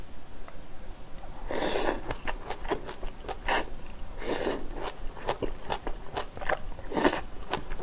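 Close, crisp chewing and biting on spicy pork and squid bulgogi with glass noodles and chili, with irregular crunchy and wet bites repeating steadily, no talk.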